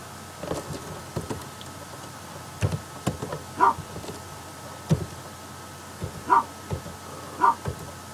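Dogs barking in the survival game UnReal World, a few sharp barks and yips spaced out over quiet ambient game sound, fairly faint and distant with no talking.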